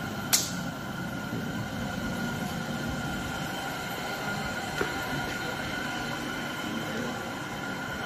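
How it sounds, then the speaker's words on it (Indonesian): A compressor runs steadily beside a vacuum evaporation coating machine, giving a continuous broadband hum and hiss with a couple of faint clicks, no voices. "Masih kompresornya masih nyala."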